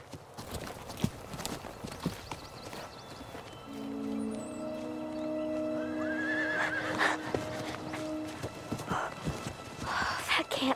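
Horses neigh in long, clear whinnies while hooves clop in an irregular rhythm nearby, with rustling and other movement in the background and a second call near the end.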